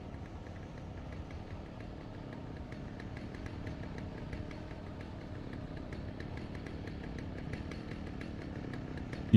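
A chainsaw in a video game drones steadily and close for the whole stretch, a continuous rough engine buzz with faint rhythmic pulsing and no voices over it.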